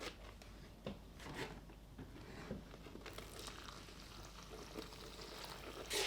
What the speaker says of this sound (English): now we're going to add our 7 cups of water